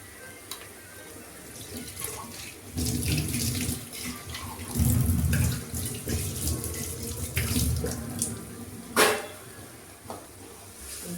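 Water is poured into a cooking pot for a tamarind curry, a steady splashing gush rising and falling over several seconds with a few clinks, fairly close and without talk.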